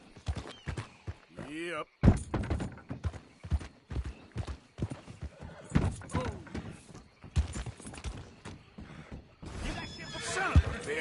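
A horse in Red Dead Redemption 2 clip-clops along at an uneven, trotting pace with a brief whinny near the start and another later. The hoof thuds are close and punchy, with a short spoken word among them.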